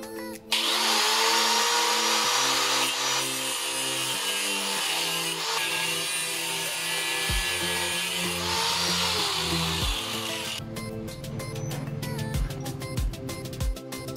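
A power tool cuts down an overly hard bracket bolt on a Yamaha Mio streetbike build. A loud, continuous, close grinding whine with shifting pitch lasts about ten seconds, then gives way to a few rattling knocks.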